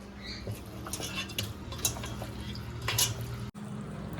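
Metal spoon scraping and clinking around a pot as thick marinated mutton is stirred, with soft wet squelches, close by and irregular.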